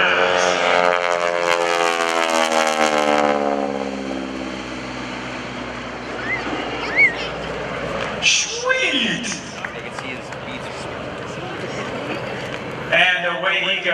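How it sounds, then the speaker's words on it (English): An AT-6 Texan propeller airplane makes a photo pass at an airshow over a lake, its loud droning engine sweeping by and fading away while an announcer talks over it. "Coming in from the right, here's Kevin Russo, the AT-6 Texan on the photo pass."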